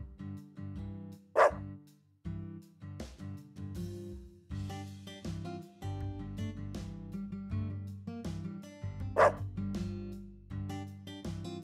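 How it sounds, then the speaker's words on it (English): Dalmatian barking in the video game Deadly Premonition 2: two sharp, loud barks stand out over a busy backdrop of game music and sound effects. "A dog?"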